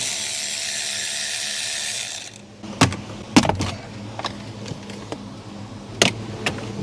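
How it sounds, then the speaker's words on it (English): Ratchet working bolts loose on a crashed 2009 Porsche Cayman during a trunk teardown: after a stretch of steady broadband noise, a series of sharp, close clicks and short ratcheting bursts, spaced irregularly. "And now I gotta remove those 2 bolts or screws."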